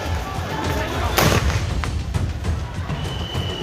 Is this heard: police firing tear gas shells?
yes